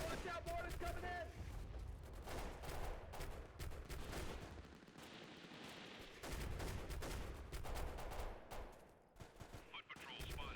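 Mortar blasts and gunfire from the PC military shooter Delta Force Xtreme 2 (2009), quiet but continuous with rapid bursts and rumbling booms throughout and radio-style voices speaking over parts of the battle.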